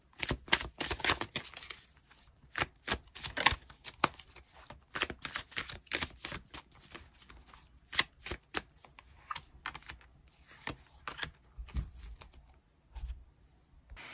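Tarot cards shuffled by hand at close range, giving a dense run of quick papery riffles and snaps that keep coming in uneven bursts for the whole stretch, with no talking.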